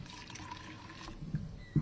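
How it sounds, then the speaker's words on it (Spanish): Water is poured during a sports radio broadcast, a faint trickle heard close in a quiet room, followed by a couple of soft knocks near the end. "¿Alguien está sirviendo agua?"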